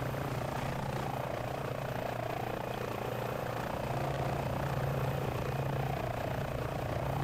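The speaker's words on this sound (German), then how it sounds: "Also fliegt wirklich toll, der Hubschrauber, muss man wirklich sagen." An H145 police helicopter in Microsoft Flight Simulator 2020: rotor chop and engine whine hold steady throughout, continuous and moderately loud with no one talking.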